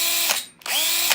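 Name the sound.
cordless drill running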